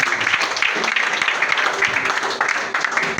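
A church congregation applauds during a worship service, a dense and steady crowd clapping that fills the room, with voices mixed in beneath it.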